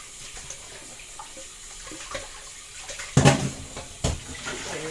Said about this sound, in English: So you rinse it off properly, just like how you rinse it off before you boil it